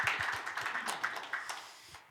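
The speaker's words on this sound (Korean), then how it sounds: "박수 보내주세요." A small audience at a Christian church panel on suicide-bereaved families claps to welcome a guest, a brief, moderately quiet patter of applause that fades out.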